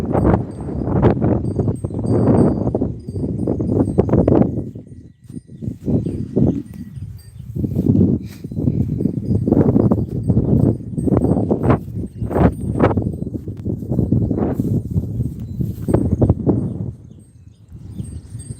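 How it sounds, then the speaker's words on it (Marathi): Goats released to graze on a forested hillside after days of rain, their hooves clopping and rustling through vegetation in a steady, fairly close, continuous pattern without speech. "बकऱ्या सोडलेल्या आहे पहिलं चरत आहे"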